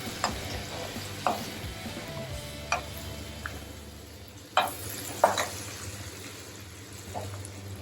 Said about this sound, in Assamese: এয়া চাওক পিঁয়াজ আৰু কেপচিকাম ফ্ৰাই হৈ গ'ল।